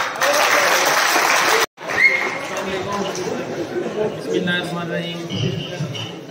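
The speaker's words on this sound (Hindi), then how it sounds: "ताली हो जाए" A crowd claps steadily and loudly for a couple of seconds, then after a brief cut murmuring voices and scattered claps continue.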